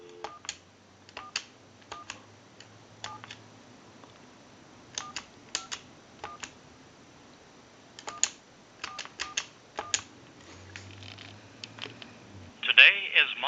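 A Pacific Bell animated Mickey Mouse telephone dials out to a time and temperature number: a series of sharp, close clicks and short tones in irregular groups, with brief low buzzy passages and a louder burst at the end.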